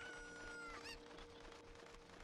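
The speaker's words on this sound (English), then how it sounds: "I can't believe they brought back the chickens" Chickens cluck and squawk in Kakariko Village in a Zelda: Ocarina of Time randomizer game, a steady run of close, fairly loud fowl calls over a constant background hum, with no talking.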